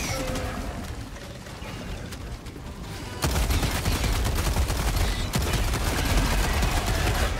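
An incendiary breaker shotgun fires in rapid succession during Helldivers 2 combat, its dense, loud blasts growing heavier and more continuous partway through amid chaotic game noise.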